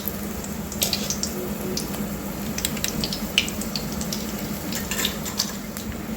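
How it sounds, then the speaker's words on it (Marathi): Spinach pakoras deep-fry in hot oil with a continuous bubbling hiss, dotted with small crackles and pops throughout. "तर असे मी थोडे थोडे तळून घेते."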